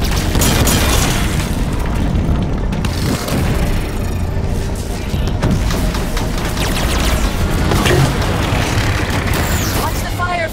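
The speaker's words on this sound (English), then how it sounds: "Watch the fire from those turrets!" Turrets fire in Halo 5 Guardians, loud continuous booming blasts and bursts over dense battle noise, with voices mixed in.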